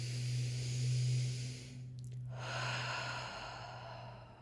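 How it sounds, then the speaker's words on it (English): Slow deep breathing, a long audible inhale and exhale with a soft sighing quality, close and quiet with a low steady hum underneath and no talking. "to take a few deep breaths together."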